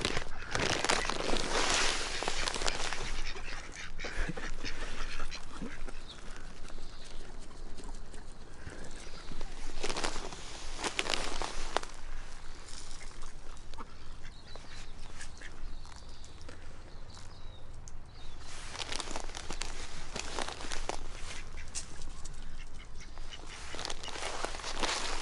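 Pet ducks at a park quack repeatedly in close, scattered bursts, with soft footsteps and rustling between calls.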